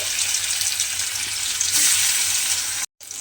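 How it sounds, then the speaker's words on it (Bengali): Spiced paneer pieces frying in oil in a pan, making a loud, continuous close-up sizzle that stays even throughout and cuts out briefly near the end. "পনিরগুলো কিন্তু এইভাবে তেলের মধ্যে দিয়ে একটু উল্টে পাল্টে হালকা করে প্রথমে ভেজে নিতে হবে।"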